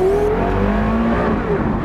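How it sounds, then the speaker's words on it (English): A Porsche Carrera GT pulls away and accelerates, its engine rising loud and close in a brief, strained rev with a shifting tone over a couple of seconds. "Okay, pulling out in a Carrera GT."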